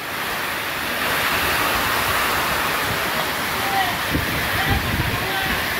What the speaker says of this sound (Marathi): मित्रांनो लय जोरात पाऊस आलाय